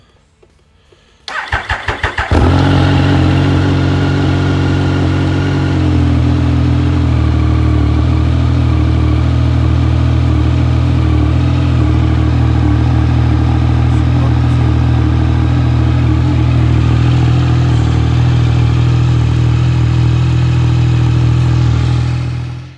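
A Triumph Speed Triple 1050 motorcycle engine cranks briefly, then catches and settles into a loud, steady, close idle rumble that continues alone.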